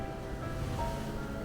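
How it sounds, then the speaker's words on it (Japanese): Ocean waves washing in at a beach cave on Yoron Island, a steady low rushing surge of water that fills the space continuously, close and moderately loud. "波が来ちゃった"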